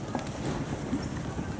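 Pony hooves trot on an arena floor during a riding lesson, a soft muffled clip-clop beneath steady background noise.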